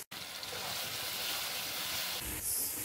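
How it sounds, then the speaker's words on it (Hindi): Spices with salt and red chili fry in a pan for a Sindhi pulao with partly cooked chicken, producing a continuous close sizzle and hiss that swells slightly near the end, with no talking. "2 से 3 मिनट मसाले को भून लेंगे"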